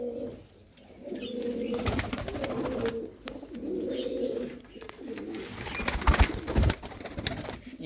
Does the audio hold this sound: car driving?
no